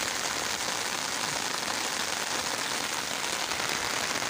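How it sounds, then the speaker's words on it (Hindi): Heavy, steady rain pours down continuously in Taxila, Pakistan, a dense even hiss of drops striking surfaces with no pauses or voices. "बहुत तेज़ बारिश है यहाँ"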